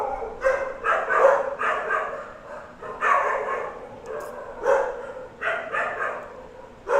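Dogs bark repeatedly in the Genshin Impact video game, several bursts of barking and yipping at moderate loudness with short pauses between them.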